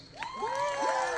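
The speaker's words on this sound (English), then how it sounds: "Cheering." A crowd at a meeting bursts into cheering and rising whoops right after a motion carries, several overlapping voices loud and close in a brief swell.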